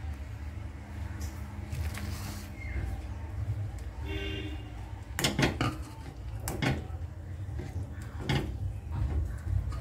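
Rice puttu mixture with cardamom powder being stirred in a pan for vennai puttu, a sweet rice halwa, giving intermittent scraping and metallic clinks of a utensil against the pan, with a cluster of sharper knocks midway over a low steady background.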